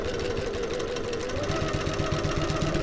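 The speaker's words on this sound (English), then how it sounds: "what you can do is reverse back over the top and the bottom of the bottle sleeve" A sewing machine runs in a fast steady mechanical whir, reverse stitching over a backpack bottle-sleeve seam, close and continuous with a rhythmic needle clatter.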